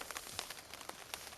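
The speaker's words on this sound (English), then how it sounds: "Day number 4, raining once again." Rain falls on a campsite on a backpacking trail in Ontario, a soft, steady patter of drops tapping on surfaces, faint and close, with no voices.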